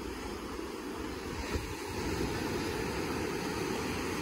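Sea surf washing onto a beach where a dog swims after a bottle, heard as a steady, fairly faint roar of waves with wind noise and no talk.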